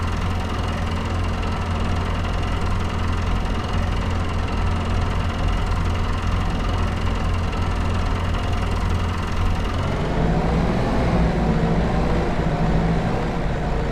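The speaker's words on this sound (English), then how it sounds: "we're going to use the Landini with the olive harvester. That's the reason we bought this tractor. I like the sound of it." A Landini tractor hauling an olive harvester in Farming Simulator 25 idles and runs with a steady, loud diesel drone and low knocking rumble, shifting to a deeper, busier tone about two-thirds through.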